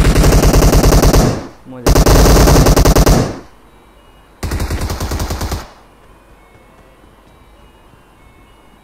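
Automatic gunfire in the mobile battle royale Battlegrounds Mobile India comes in three loud, rapid bursts, each lasting about one to one and a half seconds. A voice says a word briefly between the bursts.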